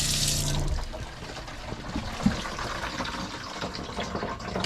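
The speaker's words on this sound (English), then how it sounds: "You can hear it running nicely into my grey water tank." Water from a kitchen tap in a DIY Sprinter camper van drains into the grey water tank. It makes a steady, fairly quiet rushing trickle throughout, with one small click partway through.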